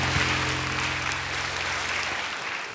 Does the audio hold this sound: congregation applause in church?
yes